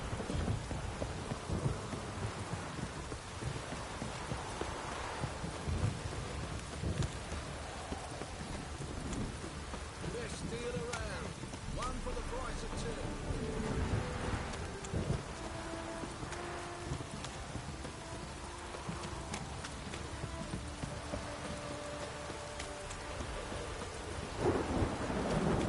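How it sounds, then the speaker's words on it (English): Heavy downpour in The Witcher 3, with dense rain hissing and spattering nonstop and rolling thunder rumbling beneath it, plus scattered faint thuds and clicks. "This downpour's a bastard,"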